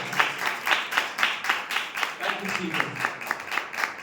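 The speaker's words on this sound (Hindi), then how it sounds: "ताली बजा के प्रभु के नाम की तारीफ करें" A church congregation claps in an even, quick rhythm in praise, a sustained run of evenly spaced claps, moderately loud and fairly close.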